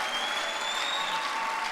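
An audience at a land-giveaway event claps continuously, a dense, steady wash of applause that stays close and even for the whole stretch.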